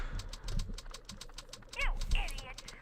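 Nearby a computer keyboard clicks in a quick, even run of sharp keystrokes. A few brief chirpy tones sound partway through, and a voice is faintly present.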